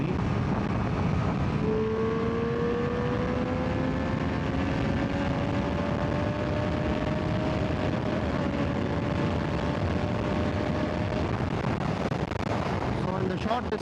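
A Triumph Street Triple 765RS motorcycle pulls hard after dropping two gears on a road in Germany, its engine note climbing steadily beneath heavy wind rush on the microphone, with no talking.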